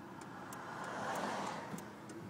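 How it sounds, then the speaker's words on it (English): Road traffic with cars passing on a city street, a steady broadband whoosh of tyres and engines that swells slightly in the middle, fairly near and continuous. "Got some traffic coming up behind me, so I'm going to wait for them to pass."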